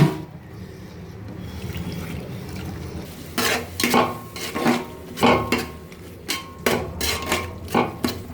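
Soaked rice goes into a pot of boiling water for chicken dum biryani: after a quiet start comes a loud, close series of splashy, clattering bursts in an uneven rhythm, each ending in a soft bubbling lull.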